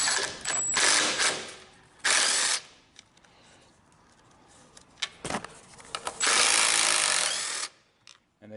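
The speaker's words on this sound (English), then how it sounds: "If you're using a ratchet or something," A ratchet works out the air box screws on a Briggs lawnmower, giving close, sharp clicking bursts in several separate runs with quiet gaps between them.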